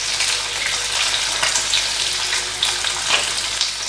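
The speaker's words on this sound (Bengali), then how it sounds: "আমি আরেকটু ভেজে নিই, আর 2 মিনিট মতো রেখে ভেজে নিই" Rui fish pieces frying in hot oil for Bengali fish chop, giving a steady, close crackling sizzle with small bursts and pops throughout, no voices.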